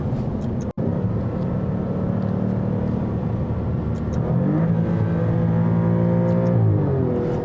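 A 2021 Alfa Romeo Giulia Quadrifoglio revs hard inside a tunnel, its engine note booming and reverberating. The pitch climbs through the gears with a brief break partway through, and no one speaks.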